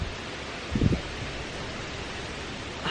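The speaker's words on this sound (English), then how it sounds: "It is so windy where I am." Strong outdoor wind roars as a steady, broad hiss over a winery grounds in the Finger Lakes, with a brief louder buffet near the start and another gust at the end.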